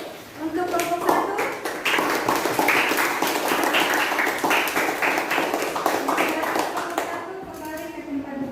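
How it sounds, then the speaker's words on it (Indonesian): A classroom of students claps for a group that has just finished presenting, a dense burst of many hands lasting several seconds before thinning out, with faint children's voices underneath. "Berikan aplaus dulu untuk kelompok 1."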